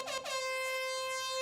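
A single air horn blast sounds as a sharp, steady tone, close and clear, lasting about a second and a half.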